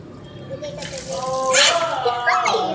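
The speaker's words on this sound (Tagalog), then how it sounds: "Tapos lagyan mo yung tubig." Tap water runs and splashes into a sink while dishes are washed, a steady gush under a child's and an adult's voices talking over it.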